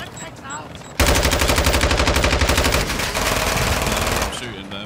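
Sustained rapid automatic gunfire in Call of Duty DMZ on Ashika Island, loud and close, running for several seconds in a dense rattling stream after quieter game sounds.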